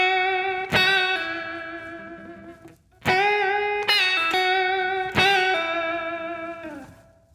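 Distorted electric guitar plays a blues lick in E, with four sustained, ringing notes and bends, each struck sharply then fading under heavy effects and reverb, with short gaps between phrases and no talking.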